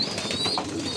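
Pigeons in a newly built loft, with soft cooing and faint bird calls over a steady background hiss and no talk.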